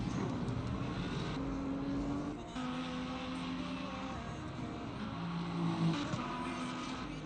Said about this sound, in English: There we go, we have the engines.